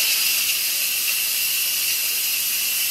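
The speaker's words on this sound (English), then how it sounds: "I'm gonna quick release the steam" Steam hissing from an Instant Pot during a quick pressure release after cooking a bottom round roast, a loud, steady, bright hiss heard close and alone for the whole stretch.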